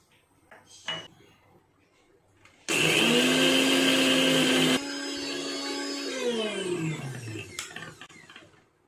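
An electric mixer grinder whirs loudly as it grinds poppy seeds with a little salt and water into a fine paste for prawn paturi, running at full speed for a couple of seconds, then settling into a slightly lower, steady hum that winds down.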